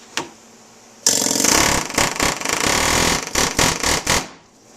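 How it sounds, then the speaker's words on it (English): An air hammer pounds the head off a rivet on a motorcycle clutch basket from a YZ250F, after a brief single tap: a loud, rapid hammering burst lasting about three seconds, broken by short pauses, then stopping. "in my case I got an air hammer, and just knock the head off"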